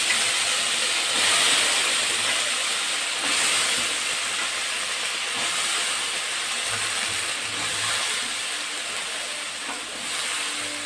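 Taro stems steaming in a pot give off a continuous bright hiss that holds steady and fairly loud throughout, with no voices.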